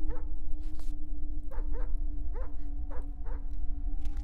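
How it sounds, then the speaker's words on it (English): Dog barking in the Slender-style horror video game Wick: several short, evenly spaced barks at mid distance over a steady low droning music bed and hum, with no talking. "I hear a dog."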